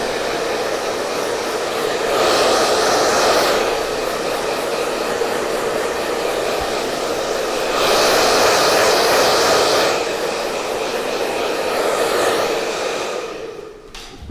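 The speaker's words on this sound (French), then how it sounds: "on va dans un premier temps commencer par pré-sécher la chevelure" Hair dryer blowing steadily while pre-drying a woman's hair during a short haircut and blow-dry, a loud continuous close whoosh that swells louder at times as it is moved, then cuts off at the end.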